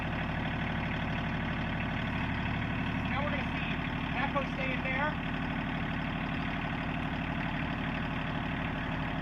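A Kioti CK2610 HST compact tractor with a KB2475L backhoe attached idles steadily throughout, a constant engine drone with someone talking over it.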